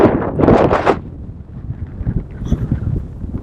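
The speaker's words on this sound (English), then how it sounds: "you can probably feel the wind already" Wind buffets the microphone on the summit of Mount Fuji above the clouds, a loud gust at first that eases into a lower, uneven rumble.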